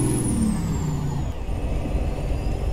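A Freightliner Classic XL truck's air brakes hiss in American Truck Simulator, a steady loud release over the rumbling engine, with a high whine sliding down at the start.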